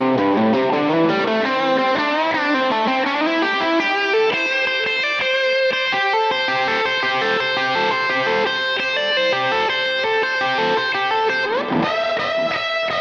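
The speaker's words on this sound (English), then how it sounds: "I'm also adding a tape delay with lots of repeats and a high amount of reverb." An electric guitar plays repetitive melodic licks, each note trailing into echoing repeats and a wide, washy reverb that smears the phrases together.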